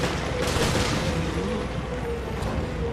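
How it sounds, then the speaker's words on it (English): Gunfire from Resident Evil: Revelations rattles out in a dense, loud, unbroken burst as shots pour into an ooze enemy, filling the whole moment without a break. "I've been shooting that one ooze for like forever and he still isn't dead"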